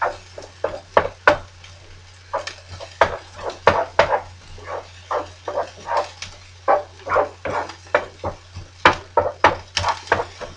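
Rice and vegetables stirred in a pan, with a steady series of scraping, tapping utensil strokes against the pan, close and fairly loud, with no talk.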